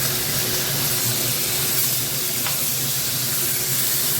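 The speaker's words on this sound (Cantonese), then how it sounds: "放啲大眼雞落去煎。" Bigeye bream frying in oil in a wok over high heat makes a continuous loud hissing sizzle, close by and steady, with one brief sharp tick partway through and no talking.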